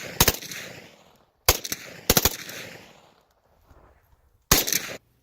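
A Russian SKS-45 rifle fires loud, sharp reports in quick short bursts of two or three rounds, with brief pauses between the groups.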